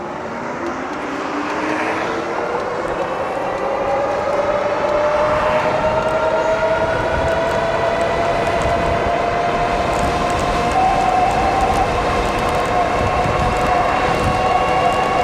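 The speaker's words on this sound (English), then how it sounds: "Top speed run here." A Tesway X9 AWD 60V electric bike accelerates to top speed on an empty Sunday-morning road, its motor whine climbing steadily in pitch under loud, constant wind roar for the whole run.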